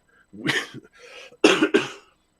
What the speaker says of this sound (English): Coughed it onto my beer.